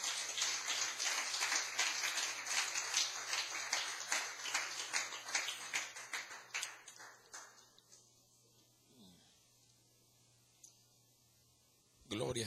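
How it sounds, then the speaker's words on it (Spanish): Church congregation applause, many hands clapping loudly for several seconds, then tapering into scattered claps and quiet before a voice speaks again. "Dele un aplauso al Señor."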